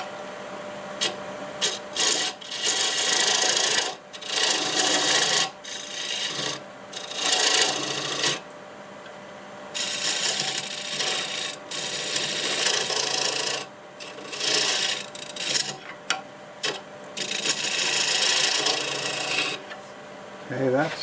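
A scraper cuts olive wood spinning on a lathe, giving long, steady raspy scraping passes with short pauses between them, loud and close, with no one speaking.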